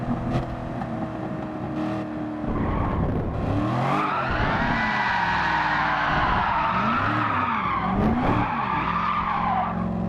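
Drifting car in a racing video game, tires skidding and squealing in long sliding sweeps while the engine revs rise and fall, close and loud with no talking.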